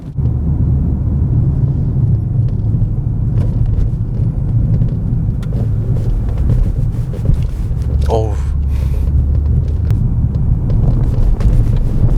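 Inside a Maserati Quattroporte Modena Q4 driving in ICE mode with damping control on, a steady, loud low rumble of engine and road noise fills the cabin, with a brief voice near the middle.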